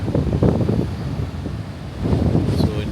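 Strong wind blows at an African beach, buffeting the microphone in heavy gusts, loud and close, with faint surf and voices underneath.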